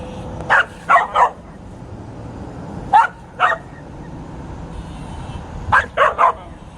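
A dog barks in short bursts: three quick barks, a pause, two more, then another three, sharp and close against a quiet room.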